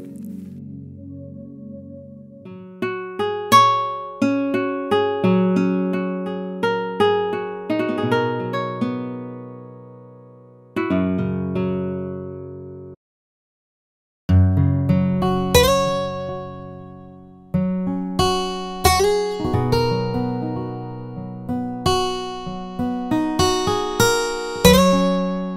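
An acoustic guitar patch from the Roland Zenology Lite plugin plays plucked notes and strummed chords, each ringing and decaying. Phrases repeat with a brief silent pause midway, clean and with no talking.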